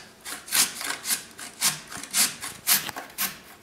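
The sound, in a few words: grating a carrot lengthwise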